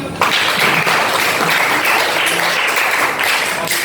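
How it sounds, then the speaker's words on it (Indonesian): A group of participants in a teacher-training class session bursts into sudden, loud applause that starts abruptly and stays as a dense, steady roar of clapping hands for the rest of the moment. "Tepuk tangan."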